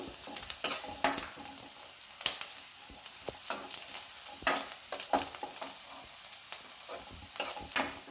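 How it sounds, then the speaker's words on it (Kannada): Bay leaf, cinnamon stick, cardamom pods and cloves frying in oil in a pan for paneer butter masala, a soft steady sizzle broken by repeated scraping and clinking stirs against the metal. "ಒಂದು ಎಲೆ, ಒಂದು ಚಕ್ಕೆ, 3 ಏಲಕ್ಕಿ, 2 ಲವಂಗ ಹಾಕೊಂಡು ಚೆನ್ನಾಗಿ ಹುರ್ಕೊಳ್ಳೋದು"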